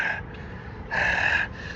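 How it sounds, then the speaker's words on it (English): A man breathes hard after running, giving a short gasp and then a longer, loud heaving breath close to the listener with no talking. "He's already been running for a while, so he's already breathing hard."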